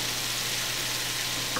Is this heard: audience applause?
no